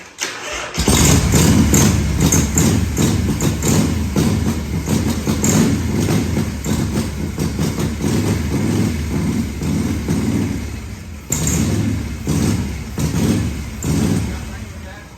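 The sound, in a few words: 1978 Harley Shovelhead FXS Low Rider engine running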